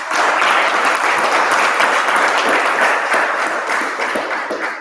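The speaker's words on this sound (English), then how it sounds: "Let me have another round of applause." Sustained applause from a Toastmasters meeting audience, dense and steady clapping from many hands throughout, close and loud, tapering slightly at the end.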